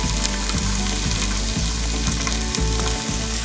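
Half a medium diced onion sizzling in olive oil in a deep saucepan: a loud, steady frying hiss close up, broken by a few soft stirring scrapes, with no talking.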